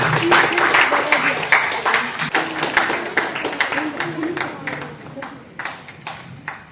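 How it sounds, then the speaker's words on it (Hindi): Audience applause greets a winner at a state-level painting competition ceremony, a lively patter of clapping from a crowd mixed with voices and some tonal chatter, gradually thinning toward the end. "जोरदार तालियों से स्वागत करें"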